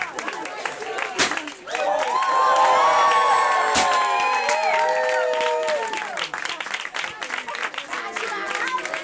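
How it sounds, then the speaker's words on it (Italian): Wedding guests break into loud applause with cheers and whoops for the newlyweds Jari and Valentina, a dense burst of clapping that swells and holds for several seconds before thinning out, with voices shouting over it. "Fate un applauso."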